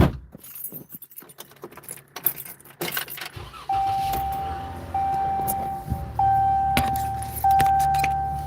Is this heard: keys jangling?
yes